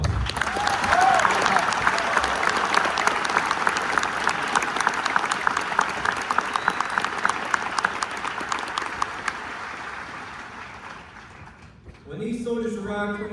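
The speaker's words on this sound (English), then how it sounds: "Please give our newly minted citizens a round of applause." Sustained, loud crowd applause at an Army OSUT graduation ceremony honoring newly naturalized soldiers, steady clapping that gradually thins before a speaker resumes talking at the end.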